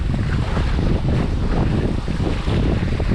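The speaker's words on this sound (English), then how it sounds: "I'm open to the wind and going a bit sidewind" Strong wind roars steadily across the microphone aboard a MiniCat 520 catamaran sailing sidewind through the Stockholm archipelago, a loud, unbroken rush mixed with water noise and no pauses.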